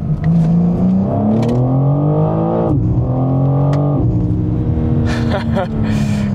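A BMW M4 Competition accelerates hard, its engine revving loudly and climbing in pitch through several gear changes, close and continuous with no talk over it.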